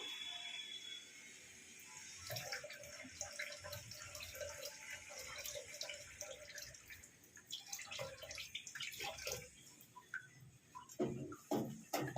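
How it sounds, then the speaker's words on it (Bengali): Water poured into a cooking pan of Bengali parshe fish jhal, trickling and splashing in bursts over a low kitchen background, with louder splashes near the end. "আর একটু জল দেবো"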